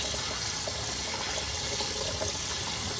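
Cold tap water pours steadily over Irish moss being rinsed in a sink, a loud, continuous splashing gush with no talking.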